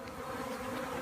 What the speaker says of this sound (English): So here's the bees clustering around the box.